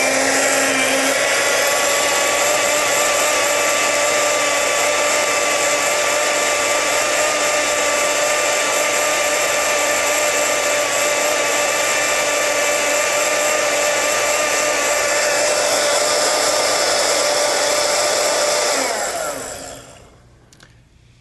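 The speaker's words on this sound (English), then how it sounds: "Now I'm going to blend it for a little while." A kitchen blender whirs steadily at full power while blending cereal, a loud continuous motor drone with a high whine that runs for about nineteen seconds before switching off and winding down.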